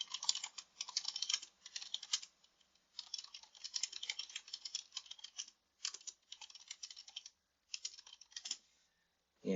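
Bursts of typing on a computer keyboard, quick close clicking keystrokes in several runs separated by short pauses, with no talking.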